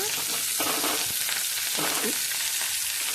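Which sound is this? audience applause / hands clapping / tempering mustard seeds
tempering mustard seeds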